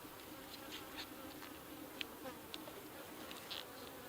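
Honey bees buzzing around an open horizontal hive, a soft, continuous drone with individual bees passing close by in brief, brighter buzzes.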